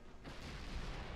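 Battleship main guns boom in the naval warfare game Ultimate Admiral Dreadnoughts, a dense, rumbling heavy-gunfire roar that swells after a brief quiet start and holds steadily at a distance.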